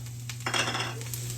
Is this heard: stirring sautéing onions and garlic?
yes